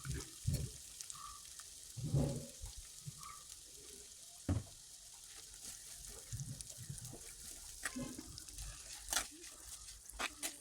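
Sliced onions sauté with a pinch of salt in a pan for a Kerala-style clam meat roast, giving a faint, steady sizzle broken by occasional soft stirring knocks and scrapes.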